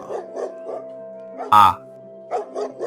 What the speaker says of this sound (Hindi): बाहर कोई कुत्ता भौंक रहा है।